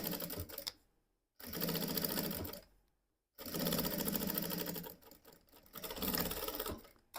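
A sewing machine stitches a seam in upholstery fabric in three bursts of rapid, even motor chatter separated by short pauses.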